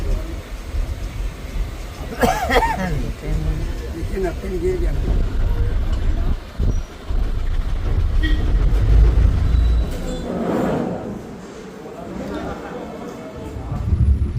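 A train running from Thiruvananthapuram to Kozhikode rumbles along steadily with a deep, continuous roar and rattling wheels, loud and close, with brief shifts in the noise as it runs.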